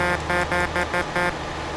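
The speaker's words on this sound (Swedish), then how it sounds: "Min tuta låter inte så mycket för mig. Men för andra låter den så här." Truck horn in the Euro Truck Simulator 2 multiplayer game, sounding five short tonal honks in a quick uneven rhythm, loud and close, followed by a steady engine hum.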